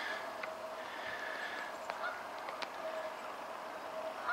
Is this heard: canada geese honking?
yes